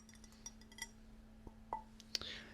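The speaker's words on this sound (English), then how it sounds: "knocking sound on glass or ceramic" Glass or ceramic is knocked lightly in a quiet ASMR setting: a few sparse, faint, sharp clinks spaced irregularly against a low steady hum.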